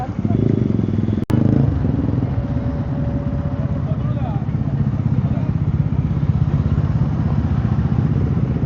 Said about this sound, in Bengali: এখানে অনেক বাইকার আছে।